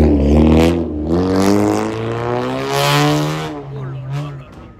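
Small cars such as a little Lotus and Daihatsu at Daikoku parking area in Japan, one engine revving up and down in long rising and falling whines, close and loud, with a voice speaking over it.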